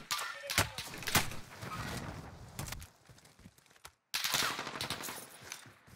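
Gunfire in a video game shooter, sharp close shots cracking in quick irregular bursts, with footsteps and quieter stretches between, a brief dropout, then more shooting.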